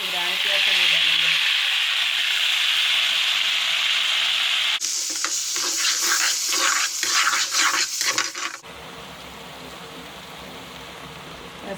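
Diced potatoes sizzle loudly in hot oil in a pan during village-style cooking. Scraping stirring strokes follow, and after ground masala is added the sizzle turns quieter and softer.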